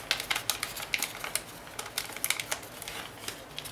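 Paper being creased and folded into an origami fox, with a quick run of crisp, papery taps and rustles close by, uneven in rhythm and fairly quiet throughout.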